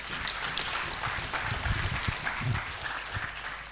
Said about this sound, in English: More hand clap, more hand clap.